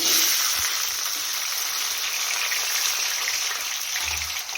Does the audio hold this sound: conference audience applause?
no